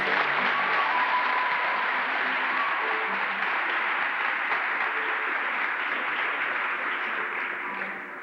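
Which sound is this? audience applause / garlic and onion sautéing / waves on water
audience applause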